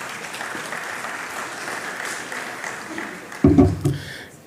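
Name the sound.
audience applause welcoming the speaker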